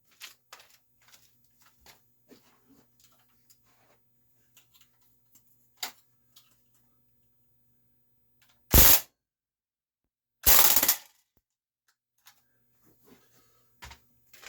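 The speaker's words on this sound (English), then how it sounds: "Next up, the KWC Mini Uzi Submachine Gun." A KWC Mini Uzi CO2 airgun fires two short, sharp bursts a couple of seconds apart, set among faint scattered clicks and ticks in an otherwise quiet space.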